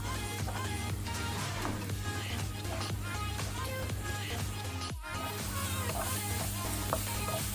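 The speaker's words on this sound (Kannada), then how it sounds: "ಇದನ್ನು ಸ್ವಲ್ಪ ಫ್ರೈ ಮಾಡ್ಕೊಳ್ಳೋಣ." Onion and garlic paste fries in a pan over a medium flame for a prawn curry, giving a steady close sizzle with light stirring scrapes and a brief dip midway, no talking.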